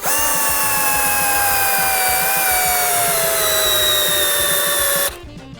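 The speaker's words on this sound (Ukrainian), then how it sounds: "Переходимо в сверління, і це вже починається прям стрес-тест." A Dnipro-M CD-218 budget cordless drill driver strains while drilling under heavy load, giving a loud steady motor whine with slowly dropping pitch, then it suddenly cuts out as the protection trips.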